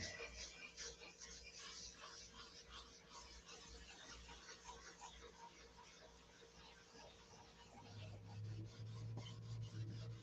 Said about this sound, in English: The Zen of sanding.